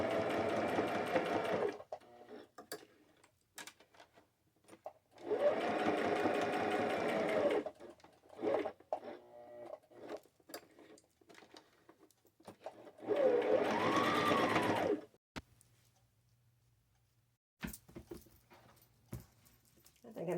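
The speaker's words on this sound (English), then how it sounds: "I'm just going to go to my machine, which is right here, and zigzag it on or just sew it on" A sewing machine runs in three long bursts of rapid mechanical whirring as it zigzag stitches a star appliqué onto overalls, close and steady, separated by quieter pauses with faint handling noises.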